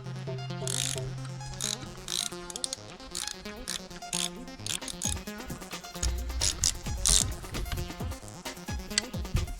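A ratchet wrench snugs down cylinder head bolts on a Yamaha Banshee two-stroke engine during a top-end rebuild. Rapid close ratcheting clicks run in repeated bursts, with a few metallic clanks between the pulls.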